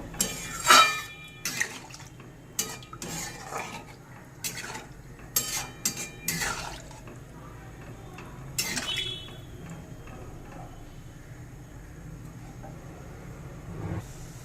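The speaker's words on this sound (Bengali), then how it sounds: "এবার ঝোলের জন্য দিয়ে দেবো জল। আবার একটু নেড়ে নেব।" Water goes into a pot of hilsa fish curry with taro and gets stirred: irregular metallic clinks and scrapes of a spoon against the pot, busier at first, then sparse and quieter over a low background.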